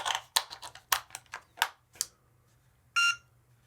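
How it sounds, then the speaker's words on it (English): Several quick clicks and taps of handling a small battery-powered YJ pocket timer for speedcubing, then a single short electronic beep rings out clearly near the end. "All right, we got a beep."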